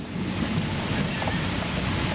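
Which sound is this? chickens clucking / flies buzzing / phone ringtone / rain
rain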